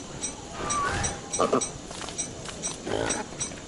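Short pig grunts and snorts in the video game Don't Starve, a few scattered bursts over a soft background, fairly close.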